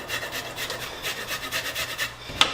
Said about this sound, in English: I'm going to use the zest. So I've got my rasp here.